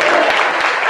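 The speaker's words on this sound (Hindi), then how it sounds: "जोर की ताली मारिबा" Congregation clapping hard together at a church service, a dense steady wash of applause filling the whole moment at close range.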